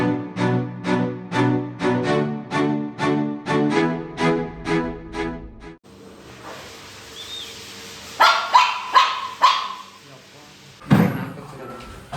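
A dog barks loudly and close in a quick, steady run of about a dozen barks, then a few more barks follow after a short pause.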